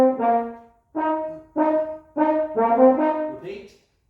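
Solo French horn plays the opening phrase of a TV theme with short, detached tonguing. A series of clear, separated notes comes in bursts with brief gaps between them, close and fairly loud, and a last higher note slides at the end.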